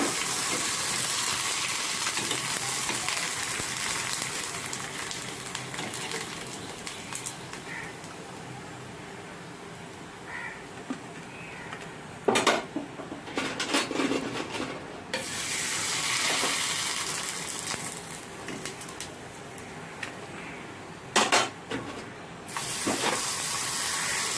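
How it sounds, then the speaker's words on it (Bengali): Sun-dried rice-flour papad fry one at a time in hot oil, with a continuous crackling sizzle that surges into louder bursts as each piece is dropped in or moved. "এবার পাঁপড়গুলো আমি ভাজবো একটা করে"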